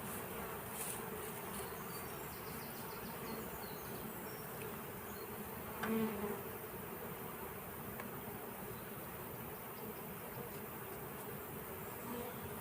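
Honeybees at a hive make a steady, soft buzzing drone that continues without a break, with no other prominent sound.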